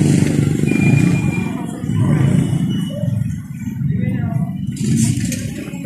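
A scooter engine drones steadily while riding, loud and close with rising and falling swells and some rattling, while a person talks over it.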